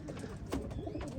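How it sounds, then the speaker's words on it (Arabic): Domestic pigeons cooing in a loft, soft low rounded coos repeating close by, faint and with no voices. "حاليا راح نطلع لكم الطيور"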